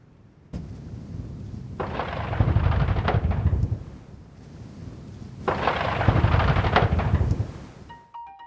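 Rock blasting with about 3 tonnes of explosive on a wind farm construction site, heard from a distance as two rumbling, thunder-like bursts, each rolling on for a couple of seconds before fading.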